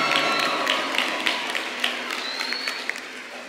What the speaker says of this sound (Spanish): Fuerte el aplauso para los 12 participantes de Panamá Oeste